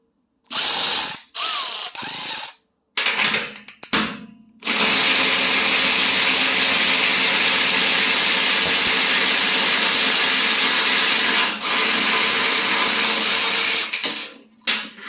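Milwaukee M12 and DeWalt 12V cordless 3/8-inch ratchets run bolts down finger tight. Loud, close motor whirring comes in short bursts at first, then settles into one long continuous run lasting about ten seconds before stopping.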